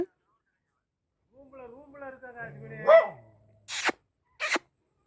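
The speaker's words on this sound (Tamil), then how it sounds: "நாய்க்குட்டி இருக்கு" A puppy gives two sharp, high yaps close by, right after a stretch of talking.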